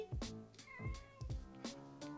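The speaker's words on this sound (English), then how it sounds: "Look, she's so cute. That little kitty." A kitten gives four short, clear meows in quick succession, each a bright rising call close to the microphone, with brief pauses between them and no talking.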